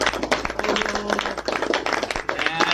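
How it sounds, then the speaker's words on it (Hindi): Children clap together at a small cake cutting, making a dense, close patter of hand claps that carries on steadily, with voices mixed in. "ये ताली बजाओ सबको"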